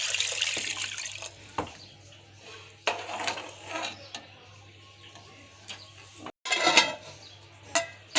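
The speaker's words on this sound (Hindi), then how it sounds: "अब इसमें मैं पानी ऐड करूँगी।" Water poured from a bowl into a pot of sautéed peas for pulao in a home kitchen, a short splashing pour followed by clinks of utensils and a second splashing burst later, close and moderate.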